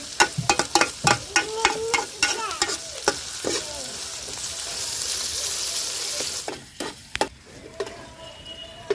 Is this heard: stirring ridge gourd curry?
yes